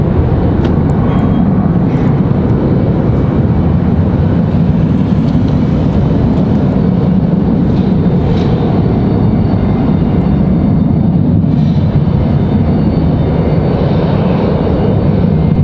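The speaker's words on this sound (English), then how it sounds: "Southwest 1150 coming at us from Atlanta." A Southwest airliner arriving from Atlanta at Raleigh-Durham airport, its engines a loud, continuous broadband roar that holds steady throughout, with no voices.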